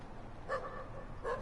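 Dogs bark in The Division video game, two short bursts well apart and fairly faint against a low background murmur.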